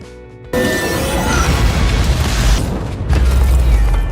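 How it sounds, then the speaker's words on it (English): Hela crushing Mjolnir, Thor's hammer, in a film effect from Thor: Ragnarok: a sharp onset into a loud, dense booming crash that rumbles on steadily and swells again near the end. "She then proceeded to show how powerful she was by destroying Thor's most iconic weapon, Mjolnir."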